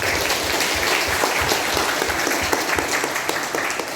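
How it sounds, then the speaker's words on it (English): Lecture hall audience at a university English education public lecture giving steady, dense applause, loud and sustained throughout with no talking. "Give applause to all of them."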